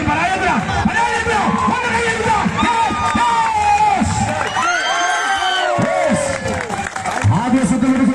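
An audience at a competition cheers and claps, a loud, continuous crowd roar packed with shouting and whooping voices that carries without a break from start to finish.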